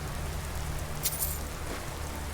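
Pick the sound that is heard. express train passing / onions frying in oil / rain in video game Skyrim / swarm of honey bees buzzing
rain in video game Skyrim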